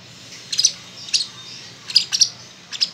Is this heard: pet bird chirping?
yes